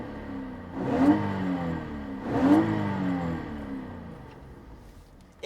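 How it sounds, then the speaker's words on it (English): Lexus IS300 SportCross inline-six exhaust revving twice, two loud rising-and-falling blips about a second and a half apart, close by with a steady idle between, no talking. "we'll give you guys a little exhaust noise"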